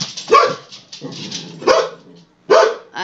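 A dog in The Sims 4 video game barks in three loud, close bursts spaced about a second apart, each a sharp bark with a slight whiny tail, alone without talk.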